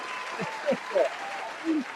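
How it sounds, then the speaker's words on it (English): Applause at a talk, heard briefly as a wash of clapping with voices calling out over it. "Let's give him a well-deserved round of applause before I start showing him right here"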